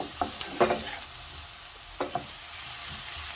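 Filling for samosa rolls fries in a pan, giving a soft continuous sizzle broken by a few sharp spatula clicks and stirring scrapes, fairly quiet and close.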